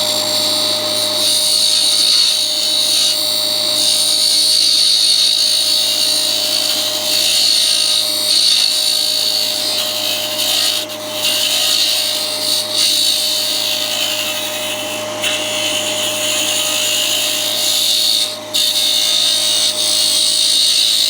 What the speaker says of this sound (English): Same thing on the inside or the bottom. So I'll make another cut.